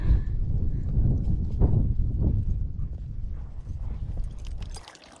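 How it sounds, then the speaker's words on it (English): Horses, including young foals, walking on soft, muddy ground, hooves clopping in an uneven, overlapping rhythm, fairly close, with rustling movement around them. "We're gonna go gather some horses."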